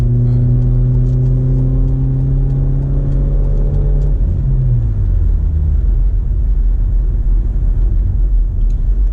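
A 2004 BMW E46 318i pulls in sport mode, its steady engine drone rising in pitch under load before dropping into a broad road rumble, close and continuous.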